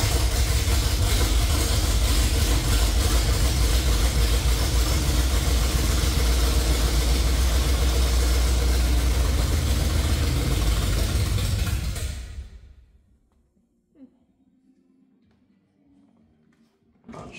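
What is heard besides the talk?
car engine with carburetor running and idling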